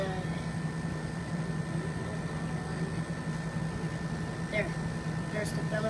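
A Panasonic window air conditioner runs with a steady, even mechanical hum and faint tonal whine, and a voice talks over it.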